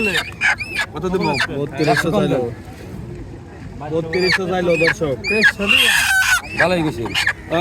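Native rooster and hens cluck and squawk repeatedly, close and loud, at a busy market in Dohar, Dhaka, with people talking around them.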